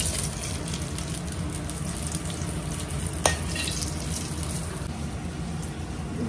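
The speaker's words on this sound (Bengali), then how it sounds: "জিরে, শুকনো লঙ্কা আর তেজপাতা ফোড়নে দিয়ে দিলাম" Cumin seeds, dry red chilli and bay leaf spluttering in hot oil for tempering, a steady close sizzle with a single sharp click midway and faint crackles throughout.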